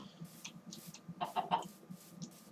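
Chicken clucking in a video game, several short clucks repeating through the clip, clearer in the middle, over a steady low background.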